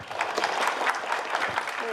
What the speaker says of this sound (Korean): 다시 한번 교수님한테 큰 박수 부탁드리겠습니다.